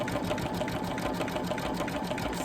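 Steady, rapid mechanical whirring and chattering of a sewing machine running continuously, close and fairly loud, with no voices.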